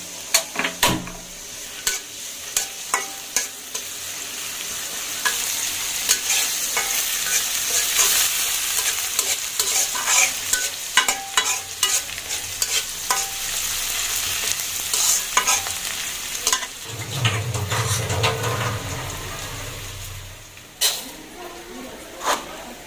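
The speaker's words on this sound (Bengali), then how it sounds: "বেরেস্তাটা ভাজার জন্য আসলে তেলটা ভালো করে গরম করে দিলে ভালো হয়, পেঁয়াজগুলো ভালো করে ভাজি হয়।" Onions sizzle and crackle steadily in hot oil for biryani beresta, with frequent stirring scrapes and clinks of a utensil against the pan, close and fairly loud throughout.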